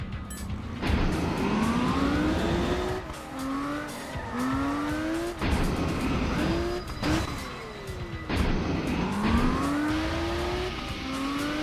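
Video game cars rev and accelerate in repeated surges, engine pitch climbing then dropping with gear shifts, loud and continuous with brief bursts of tire noise, no talk.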